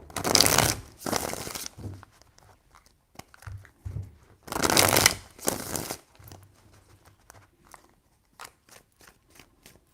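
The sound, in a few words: shuffling tarot cards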